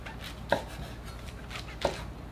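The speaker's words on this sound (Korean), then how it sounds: "끝에 있는 뿌리 자르세요" Knife cutting the root ends off shimeji mushrooms on a cutting board, two soft chops about a second apart, close and quiet with no talk.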